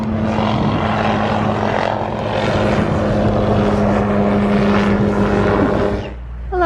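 An Osprey tiltrotor aircraft passes overhead near Bahia Honda State Park in the Florida Keys, its deep droning propeller thrum swelling and fading as it crosses the sky, then dropping off abruptly at the end.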